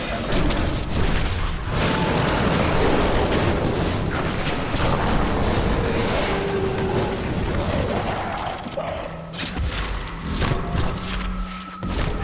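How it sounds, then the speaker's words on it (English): Explosions in Diablo 3 Ultimate Evil Edition on PS4, dense booming blasts and crunching impacts piling up in a loud, continuous barrage of battle effects that thins slightly near the end. "The explosion kicked off, and again, took them all out."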